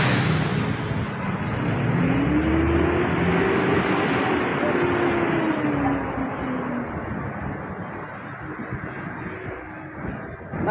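Road traffic on Kapulong Highway in Tondo, Manila: a steady wash of passing vehicles with a rising and falling engine pass, heard from the roadside while people talk nearby.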